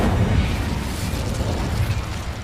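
Incendio fire spell cast in Hogwarts Legacy, a dense rumbling burst of flame with a heavy low boom that roars steadily for a couple of seconds, loud and close.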